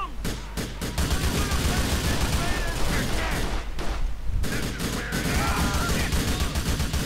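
Repeated gunfire in Grand Theft Auto IV, with rapid bursts and single shots over a steady game background and some crashing impacts, loud and close throughout.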